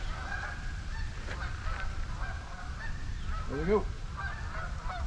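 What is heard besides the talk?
geese honking near campsite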